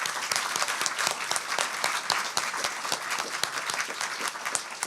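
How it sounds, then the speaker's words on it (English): A round of applause from an audience honouring a culture team, steady dense clapping throughout at moderate distance, with no talk over it. "They're marvellous. Give them a round of applause."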